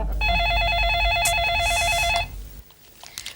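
Phone ringing on a call to someone's wife, a steady electronic trilling ring that sounds loud and close for about two seconds, then stops and gives way to quieter room noise.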